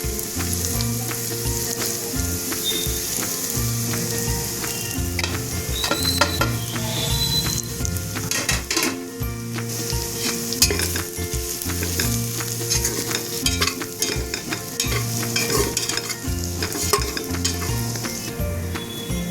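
Spice powders fry and sizzle in a pan for Kerala-style beef curry, a steady loud crackle with frequent clinks and scrapes of a stirring spoon against the pan throughout.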